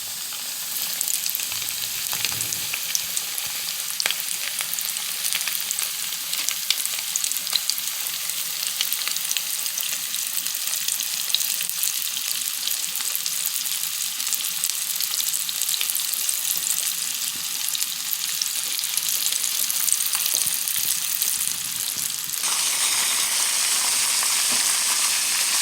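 Catfish and onion rings frying in hot oil, a loud, continuous crackling sizzle that holds steady throughout, with a brighter hiss near the end.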